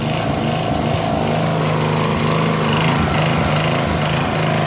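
A Northern Hydraulics pressure power washer with a 3.5 hp Briggs engine runs loud and close, a steady droning small-engine hum that holds without a break throughout.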